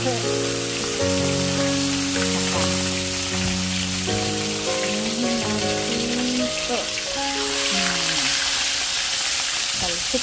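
Food fries in hot melted oil in a pan with a steady, dense sizzle and crackle throughout, close and continuous, while a voice speaks briefly over it.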